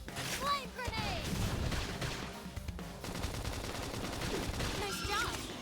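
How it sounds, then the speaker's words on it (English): A flame grenade attack in Xenoblade Chronicles X: Definitive Edition, heard as a dense, continuous barrage of blasts and bursting fire under loud battle effects, with a brief voiced shout early on. "Flame grenade!"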